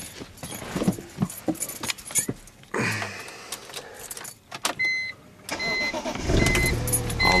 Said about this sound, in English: Let's go ahead and start up the engine.